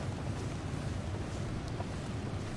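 Wind in the survival video game The Long Dark is a steady, rushing low roar, loud and unbroken through the short stretch.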